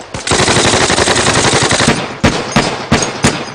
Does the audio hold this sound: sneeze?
no